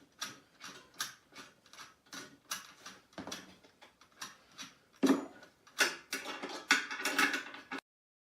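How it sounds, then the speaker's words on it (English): A half-inch wrench ratchets on the bolts that hold a Freedom Trax to its mounting board, in short bursts of quick metallic clicks separated by pauses. The clicking grows louder and denser toward the end. "take a 1/2-inch wrench and go ahead and unscrew the bolts that are attaching it to the mounting board"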